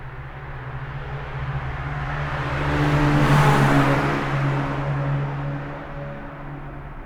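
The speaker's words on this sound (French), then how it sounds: "comme par exemple ce son de voiture" A car approaches, passes close by with a rising whoosh and engine hum, then fades away into the distance.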